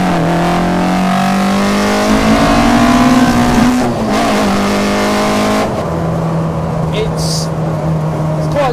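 A 174bhp throttle-bodied Citroen Saxo VTS engine revs hard and loud up close, pitch climbing through gears with brief breaks between shifts, and a voice speaks over it.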